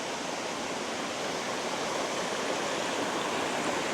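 A small river stream flows steadily nearby, a constant close rushing and babbling of water with no pauses and no voices.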